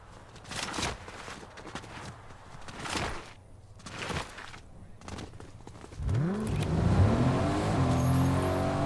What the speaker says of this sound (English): Just hearing an engine rev.